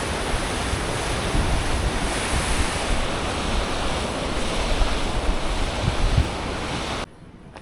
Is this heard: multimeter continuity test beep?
no